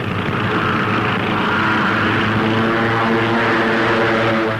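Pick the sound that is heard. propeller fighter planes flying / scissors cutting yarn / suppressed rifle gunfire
propeller fighter planes flying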